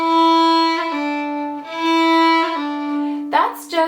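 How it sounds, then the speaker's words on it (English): A fiddle plays the traditional Scottish and English air Roslin Castle, holding sustained bowed notes, with quick ornamental grace notes flicking in near the end, played alone and fairly loud. "right here is where the grace notes come in"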